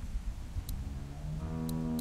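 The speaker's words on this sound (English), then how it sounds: "Do you want to pet the cow with me?" A cow moos in The Walking Dead video game, a skinny cow in a farm setting, with a sustained lowing call rising in the second half over background game ambience.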